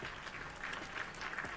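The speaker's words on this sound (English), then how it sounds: "We're going to clap for that, yeah?" An audience at a live stream clapping together, a dense, even wash of applause that stays steady throughout, moderately quiet and slightly distant, with no talking over it.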